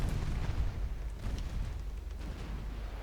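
Naval guns fire in Ultimate Admiral Dreadnoughts, a dense run of heavy booms and rumbling blasts that overlap into a continuous roar, loud and close, with no talking.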